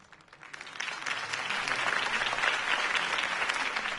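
Crowd applause after a campaign speech in a video game, a steady wash of clapping swelling quickly and holding loud and close for several seconds.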